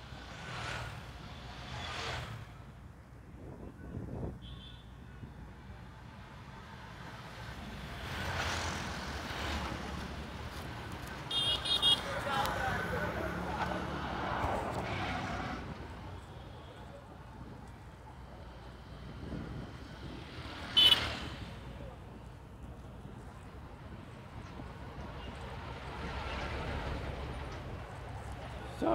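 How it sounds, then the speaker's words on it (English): Traffic rumbles beside a busy main road near the coast, with cars and trucks passing in waves, a constant low roar and occasional louder swells and clatter, recorded while walking. "Sorry for the noise, as this is the main road and it is very, very, very noisy."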